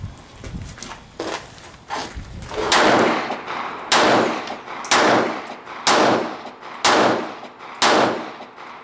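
A handgun fires a series of sharp, loud single shots at a steady pace of roughly one per second, with echoing decay between them and a few clattering knocks early on.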